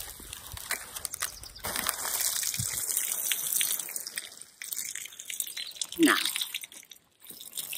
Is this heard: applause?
no